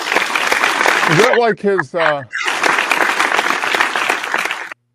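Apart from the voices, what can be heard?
round of applause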